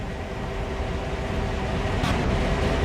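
A train coasts along in the Train Sim World video game, giving a steady, loud, broadband rumble with a faint mechanical hum, continuous and unbroken, with no voices.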